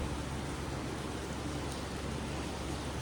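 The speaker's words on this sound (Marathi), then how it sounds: "आता आपण बाहेर पाऊस आहे" Rain falling outdoors, a steady dense wash of noise with no distinct drops or pauses, fairly faint and continuous throughout.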